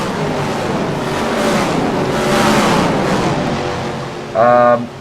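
Race cars in Gran Turismo run a Day to Dusk 150 event, coming out of turn 4 with a steady, loud engine roar and whine. A higher engine note rises sharply near the end.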